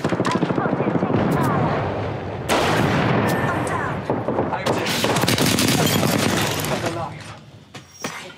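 Apex Legends gunfight with a frag grenade thrown: loud, dense bursts of automatic gunfire and blasts pile up almost without pause, with a sharp explosive crack midway and game voices mixed in.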